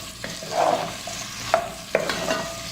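Onions frying in a pan for okra, a steady sizzle under repeated spoon stirs and sharp scrapes against the metal, close and fairly loud, with several distinct clicks spaced across the stirring.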